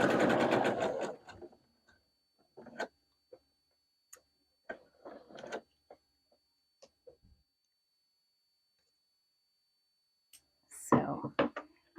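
A home sewing machine stitching a vintage poof-sleeve dress gives short, intermittent mechanical bursts and ticks with pauses between them, and someone speaks briefly at the start and the end.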